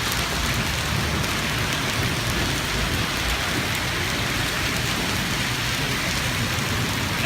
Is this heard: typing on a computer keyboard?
no